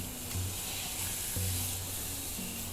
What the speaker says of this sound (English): let's see if I can't drop it into this pan over here and get a sear on it for a couple minutes